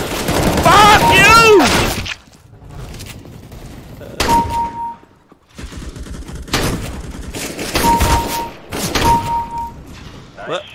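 Gunfire from the video game CS:GO, bursts of sharp shots and thuds in clusters across the clip, loud and close, with excited talk over parts of it.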